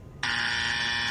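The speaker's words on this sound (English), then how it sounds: "If you get it wrong, You get the buzzer." A game show wrong-answer buzzer cuts in sharply after a moment of quiet and holds a loud, harsh, steady electronic drone to the end, with no voices over it.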